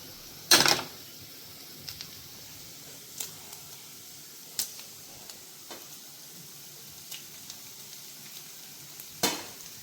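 Chicken frying in a pan as grated cheese goes in, with a soft steady sizzle and a few sharp clatters and scrapes from stirring or a utensil, including a loud clack near the start and another toward the end.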